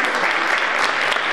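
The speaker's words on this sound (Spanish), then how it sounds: "Dale un aplauso a Nadia" Short stretch of dense, even applause from an audience at a language school anniversary celebration, many hands clapping together.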